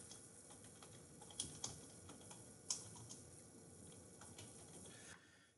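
Typing on a computer keyboard while entering text in Excel, a soft steady patter of keystrokes with a few sharper clicks, faint and close against a low background hiss.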